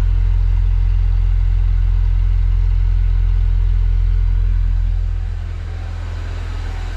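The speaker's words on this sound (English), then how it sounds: "This car's never been that quiet in me owning this dang thing." A car engine idles steadily at operating temperature with a low, smooth rumble heard from inside the car, its tone easing slightly toward the end.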